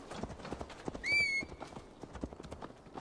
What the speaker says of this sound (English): Let's ride our horse real quick.